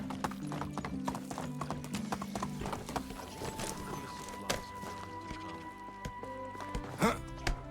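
A donkey's hooves clip-clop steadily in a rural medieval setting in the Medieval Dynasty video game, a continuous run of close, crisp hoof knocks over a droning ambient bed with no one talking.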